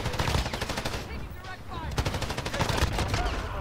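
A Bruen rifle in Call of Duty: Modern Warfare fires in rapid automatic bursts, loud and close. The crisp shots repeat over rumbling low-end game noise.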